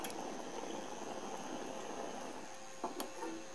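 Water boiling on a flat induction coil driven by a ZVS driver gives a steady, soft bubbling seethe with a faint electronic whine, and a couple of small clicks near the end.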